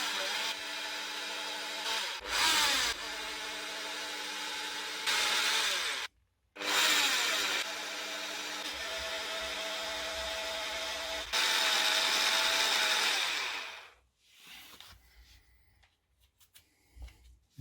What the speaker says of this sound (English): And when I'm cutting now, I'm trying to follow through, obviously, on the line of where this bolt is.